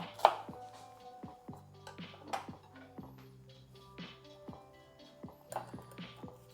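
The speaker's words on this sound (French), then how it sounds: "vous venez couper votre oignon rouge en petits morceaux" A knife dices a red onion into small cubes on a board, making a series of crisp, close chops at an uneven pace, with a few faint clinks between them and no voices.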